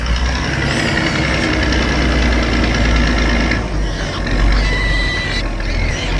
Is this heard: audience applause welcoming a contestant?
no